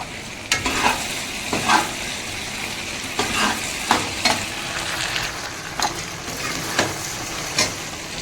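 Food frying in oil on a gas stove, a steady sizzle broken by periodic stirring scrapes and clatters, close and loud, with no talking.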